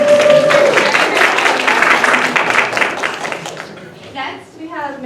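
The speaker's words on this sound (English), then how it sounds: "We need to give her an extra round of applause." Applause from a workshop audience honoring a school social worker on her second week back: a dense burst of clapping that fades as a voice begins speaking toward the end.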